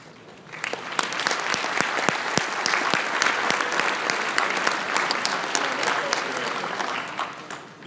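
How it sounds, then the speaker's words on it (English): A large audience at a NARFE opening ceremony breaks into strong, sustained applause that starts quickly, holds loud and dense for several seconds with crisp individual claps, then thins slightly at the end. "you can give the applause"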